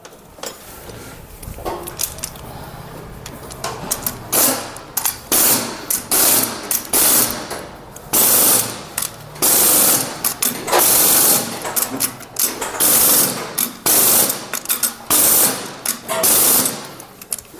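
A ratchet or wrench clicks in quick bursts while head bolts are tightened in a cross pattern on a Hero Super Splendor motorcycle engine during a rebuild, close and loud with pauses between turns; someone speaks at times.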